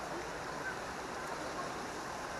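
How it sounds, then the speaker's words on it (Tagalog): Steady broadband rush of a flowing river, continuous and fairly faint, with no voices. "Baybayin natin tong ilog na to kung saan patungo."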